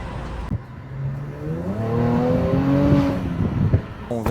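Brabus car moving through stop-and-go traffic, engine rising in pitch as it accelerates after a sharp knock, with a brief voice.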